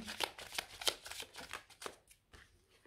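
Tarot cards shuffled and drawn for a reading, a run of quick soft riffling flutters and slaps, fairly faint and close, with no talking.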